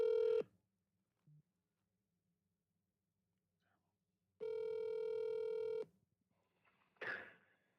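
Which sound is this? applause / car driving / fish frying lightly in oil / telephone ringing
telephone ringing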